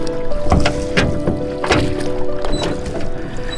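Paddle strokes dip and pull through water in a steady rhythm, with soft wooden knocks and sloshing close by, as a boat is paddled across the Louisa River in Tasmania.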